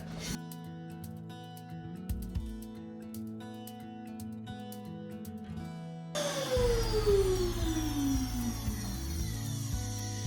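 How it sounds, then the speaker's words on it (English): Vacuum cleaner running during candle making, a steady motor drone with a tonal hum that shifts pitch partway through as debris is drawn in, loud and continuous throughout with no talking. "It's a vacuum. It's what it's made for."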